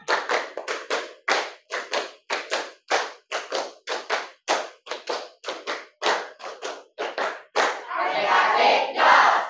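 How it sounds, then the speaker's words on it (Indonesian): A classroom full of students performs a rhythmic clapping routine: long runs of crisp, close claps in patterned beats, ending in a denser burst of clapping and hand noise. "tepuk semangat"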